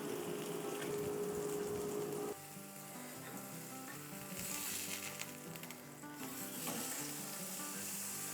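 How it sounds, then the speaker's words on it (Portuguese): An oat burger patty sears in a frying pan with a steady, loud sizzle and crackle, close up and continuous, with no talking. "agora eu vou dourar essa carne na frigideira até ela selar bem dos dois"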